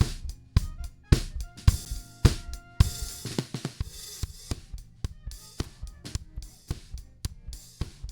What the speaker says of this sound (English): Let's play these drums, and I'm going to slowly bring up the compression.